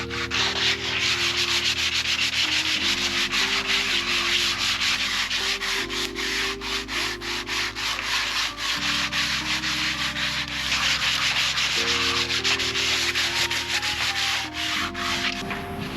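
A power sander works over the wood of a pallet garden bench, with a loud continuous abrasive rasp whose motor hum shifts in pitch every few seconds as pressure changes, close and uninterrupted.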